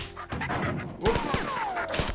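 Machine gun fire in the video game Marathon: a quick string of sharp shots and thuds comes through a busy game mix, with some gameplay noise around it.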